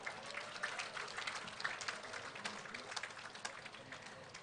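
Applause from a crowd at an Indonesian Independence Day flag-lowering ceremony, a dense patter of clapping heard from some distance, steady and moderately faint throughout.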